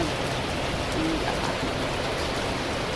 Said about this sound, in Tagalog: So ngayon, umuulan po sa amin.